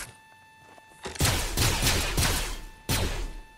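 Laser gun firing in a video game: a quiet hum, then a loud rapid burst of repeated blasts, a brief drop, and a second volley near the end, punchy and close.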